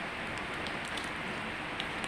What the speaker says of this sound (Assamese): আমাৰ ইয়াত ইমান বৰষুণ চাওক নন ষ্টপ।